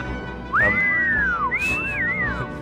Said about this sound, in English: This whistling's awful noisy.